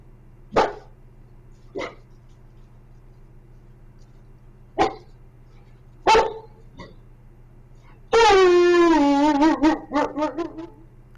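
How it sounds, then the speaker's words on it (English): A wolf gives several sharp, spaced barks over a low background hum, then breaks into a long wavering bark-howl threat display that trails off in rough bursts. "What you heard was a bark howl in the threat display"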